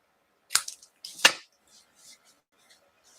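Scissors trimming a paper card give two sharp, close snips about a second apart, followed by faint rustling of the card.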